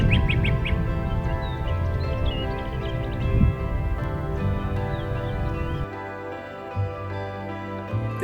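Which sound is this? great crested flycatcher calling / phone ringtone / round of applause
great crested flycatcher calling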